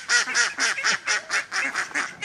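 A mother duck quacks about nine times in a quick, even series, loud and close, with no other sound around.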